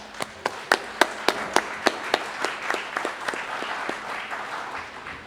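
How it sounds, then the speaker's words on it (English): An award ceremony audience gives a round of applause, with a dozen or so sharp, evenly spaced claps standing out in front over a steady, softer wash of clapping from the crowd. "A round of applause, I believe, would be well deserved at this time."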